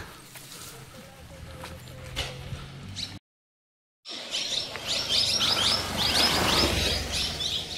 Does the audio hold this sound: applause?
no